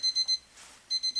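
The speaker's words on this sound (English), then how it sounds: "that's the alarm clock going off now." An alarm clock goes off with bright, rapid electronic beeps in two bursts of three, separated by a short pause, loud and close.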